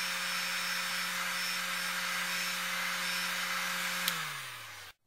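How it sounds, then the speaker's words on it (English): A heat gun on its low setting blows a steady, loud, even whoosh while warming plastic joints, then switches off near the end and winds down to silence. "I put the heat gun on the low setting and just gently"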